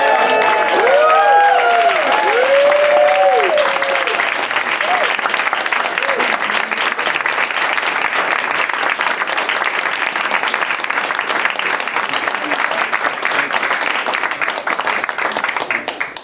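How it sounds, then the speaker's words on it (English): An open-mic audience at a climate-themed community gathering breaks into loud, sustained applause and cheering that fills the room steadily, with a few whoops rising above the clapping near the start. "Please join me in giving a rousing cheer for Lydia and Tim"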